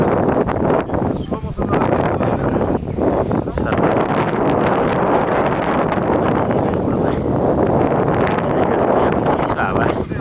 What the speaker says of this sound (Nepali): चिसो हावा